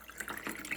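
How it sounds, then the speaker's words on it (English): Cold water is poured briefly into a hot, just-boiled homemade flu shot drink, a soft splashing trickle heard close and alone. "I'm just going to dilute it a little bit with some cold"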